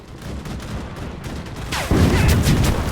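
Artillery fire in the Enlisted video game: loud booming blasts that swell into a dense, sustained barrage in the second half, with sharp cracks layered over deep rumbling and no talking.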